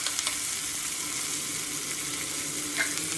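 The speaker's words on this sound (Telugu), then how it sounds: "రెండు ఆనియన్స్ని తీసుకుని సన్నగా కట్ చేసుకుని వేసుకోవాలి కలుపుకోవాలి ఆనియన్స్ కాసేపు వేగనివ్వాలి" Thinly sliced onions fry in a pan of oil, a dense, even sizzle running steadily throughout with faint stirring scrapes and no voices.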